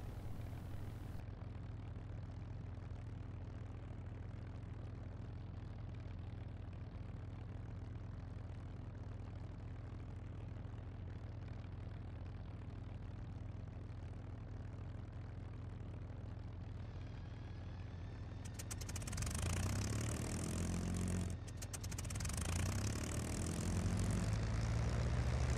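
A P-51B Mustang aircraft engine in simulation drones steadily at first, then a starter engages and the engine turns over and fires around the end, becoming a louder, rougher roar with propeller noise.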